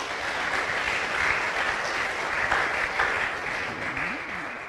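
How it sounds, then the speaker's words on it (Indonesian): An audience at a religious talk breaks into steady applause, a dense even wash of many hands clapping throughout, moderately loud, with no clear speech over it. "Kita tepuk tangan dulu saudara-saudara."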